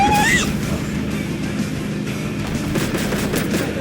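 Bursts of rapid gunfire crackle in the video game RV There Yet? against a loud, steady rumble of engine or vehicle noise, with a whistling tone at the start.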